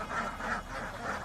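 Ducks quack loudly and close up in a short burst of repeated calls over a noisy farm background.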